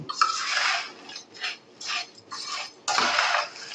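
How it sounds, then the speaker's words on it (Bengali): Fried flattened rice (chire) is tossed with salt in a pan, giving a close, dry, rustling scrape in five or six rhythmic strokes, the last one loudest, with no talking. "তারপর আমি খুব ভালো করে কিন্তু এই চিড়েটাকে মিলিয়ে দেব"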